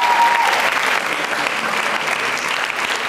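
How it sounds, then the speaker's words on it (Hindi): Audience at a college quiz show with Tagore Girls and Bhawani Niketan colleges breaks into steady, fairly loud applause that holds evenly for the whole stretch, a dense wash of many hands clapping together. "तालियां बजाइए"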